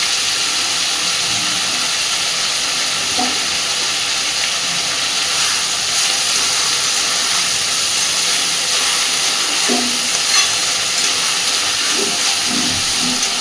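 Chopped green chilies sizzle in hot oil in a pan while fried rice is cooked, a steady loud hiss of frying throughout with a few faint clinks, no voices.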